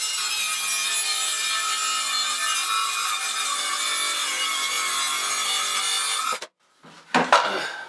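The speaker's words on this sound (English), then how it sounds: "So now I get to try to track saw off a 1/4 inch sideways while it's in place." A track saw cuts a quarter inch sideways off a wooden divider of a vanity while the divider stays in place, giving a loud, steady, close rasping cut for about six seconds before it stops abruptly, followed by a short clatter.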